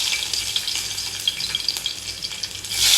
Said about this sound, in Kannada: ಇವಾಗ ಆಯಿಲ್ ಹಾಕಿ ಒಂಚೂರು ಬೆಳ್ಳುಳ್ಳಿ ಹಾಕ್ತಾಯಿದ್ದೀನಿ